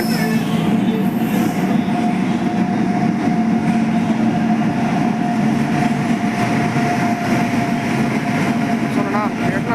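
The West Coast Express passenger train runs past close by, a loud steady rumble of wheels on rails with a sustained droning whine and some squealing metal, continuous throughout.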